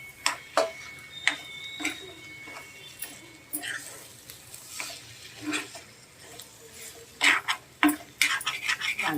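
Prawns with fried coconut, ginger and garlic cook in oil in a pan, with a low sizzle and sharp spoon ticks and clinks against the pan, close and irregular, coming more often toward the end.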